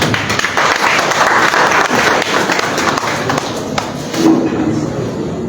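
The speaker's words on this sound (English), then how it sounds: "A round of applause, please." Loud, sustained applause from a conference audience of African Union delegates as a speaker is invited to the podium, a dense wash of clapping lasting throughout with a few heavier thumps.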